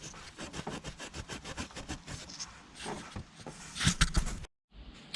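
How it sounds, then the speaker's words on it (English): A Scotch-Brite pad scrubs the thermostat housing on a 1995 BMW 525i E34 with an M50 engine, giving a close, continuous rapid rubbing rasp in quick back-and-forth strokes that stops abruptly near the end, then resumes faintly. "I'm just gonna take one of these pads and clean this up in here"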